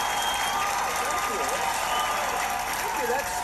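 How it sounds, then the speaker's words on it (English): Studio audience applause on a late-night comedy talk show, a steady dense wash of clapping that holds throughout. "They laugh and clap at every single corny joke that he says."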